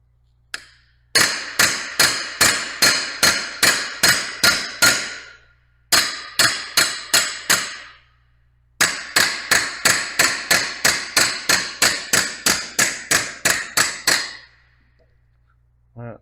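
Repeated sharp metallic hammer blows on a warped knife blade, struck in fast even bursts of about eight to twelve hits separated by short pauses, each ring decaying quickly, loud and close with a low steady hum beneath.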